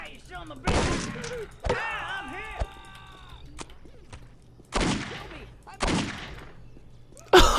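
Gunfire in the Postal 2 game comes in several loud, sharp bursts spaced a second or so apart, with a shattering crash among them and a person talking in between.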